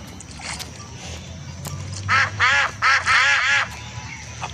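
A flock of cartoon ducks in a children's duck-feeding video game quack in a quick burst of four or five loud, harmonic calls near the end, over a soft background music bed.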